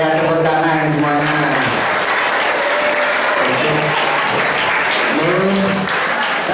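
Loud, sustained applause from an audience at a Ramadan religious study gathering, dense clapping throughout with a voice speaking over it in places.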